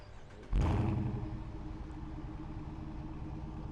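A 2017 Dodge Challenger V8 with a muffler delete and straight pipes cranks and roars to life, then settles into a loud, rumbling, lopey idle with no muffling.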